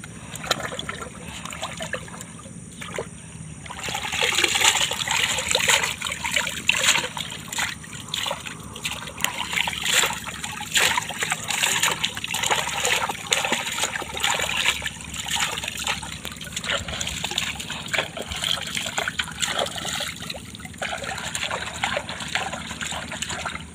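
Water splashing and trickling steadily in a river as someone performs ablution, a continuous close, loud wash of splashes and dribbles lasting throughout.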